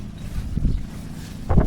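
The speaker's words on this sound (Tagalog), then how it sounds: "Lakas ng hangin mga idol" Strong wind at a beach campsite at Atanacia Beach Park buffets the microphone with deep, rumbling gusts and whooshing, swelling in loud surges near the end.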